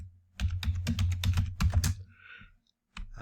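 Rapid keystrokes on a computer keyboard while entering program code, a close burst of clicky taps lasting about two seconds, then a short pause and a few more keys.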